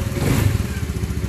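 A motorcycle engine idles steadily and smoothly after an engine change, a loud, even low rumble with a regular pulsing beat and no voices.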